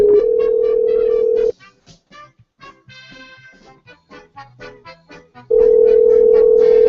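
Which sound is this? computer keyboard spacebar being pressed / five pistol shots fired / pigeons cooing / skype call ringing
skype call ringing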